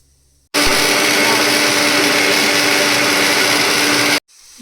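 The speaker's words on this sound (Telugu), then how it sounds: "మిక్సీ జార్లో వేసుకొని అల్లము కచ్చవచ్చగా పేస్ట్ చేసుకుందాము మెత్తగా మిక్సీ పెట్టేసుకుందామండి" A kitchen mixer grinder grinds ginger into paste in a loud, steady whirring roar that starts abruptly, holds for several seconds and stops just as suddenly.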